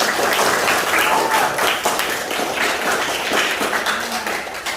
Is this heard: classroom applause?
yes